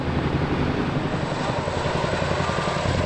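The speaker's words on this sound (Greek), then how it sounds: "Ελικόπτερα Σινούκ, όπως αυτό εδώ πίσω" A US Army Chinook helicopter flies overhead during flood pump operations in New Orleans, a steady, loud broadband rotor and engine roar that holds continuously with no talk.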